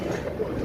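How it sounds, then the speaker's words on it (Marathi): A brief burst of the Siddheshwar Express rolling along near Kalwa and Mumbra, a close, even low rumble from the moving carriage with no talk. "आपली ट्रेन जाणार वाया कलवा मुंब्रा"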